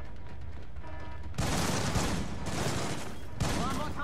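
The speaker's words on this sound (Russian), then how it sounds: "Выстрелы! Стреляем точно оттуда!" Gunfire in the stealth shooter Splinter Cell: Blacklist: after a quiet stretch with faint voice, loud broadband bursts of fusillade erupt, a sustained volley followed by a second sharp burst near the end.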